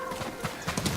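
A horse gallops in the Ghost of Tsushima video game, its hooves clopping in quick rhythmic beats close by, with a brief whinny-like tone at the start and faint speech-like sounds mixed in.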